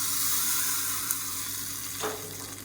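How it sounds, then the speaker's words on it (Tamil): Mustard seeds, urad dal, dried red chillies, curry leaves and asafoetida sizzle in hot oil for a South Indian chutney tempering, a steady close crackle with a brief stir near the end. "கடுகு உளுந்து வரமிளகா கருவேப்பிலை பெருங்காயம் போட்டு தாளிச்சிருக்கேன் இது அப்படியே இதில் சேர்த்துக்கலாம்"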